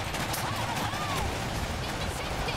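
A dense, continuous din of gunfire and battle fills the World War-era strategy game Iron Harvest, with no gaps or distinct single shots standing out.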